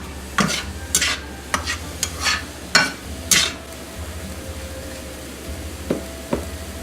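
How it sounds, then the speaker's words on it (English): Mushrooms cooking dry in a hot pan, stirred with a utensil that scrapes and knocks the pan in irregular bursts over a low steady hum, close and moderately loud, with no talking. "Just adding my mushrooms into it dry."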